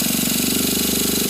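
Small glow-plug nitro engine on a model truck, spun over and catching, with a steady buzzing drone holding at an even, fairly loud level throughout.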